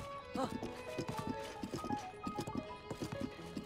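Horse hooves clip-clop in a steady galloping rhythm in The Legend of Zelda: Tears of the Kingdom, close and continuous, layered with game music and someone talking over it.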